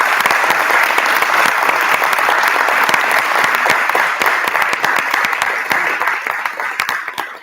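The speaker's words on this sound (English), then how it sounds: "So again, like a big round of applause." Loud, dense applause from the audience at a board meeting, a close, full roar of clapping that holds steady and then tapers off slightly toward the end.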